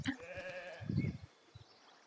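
Goats in the video game Foundation give a couple of short, fairly faint bleats over soft game ambience, with no voices.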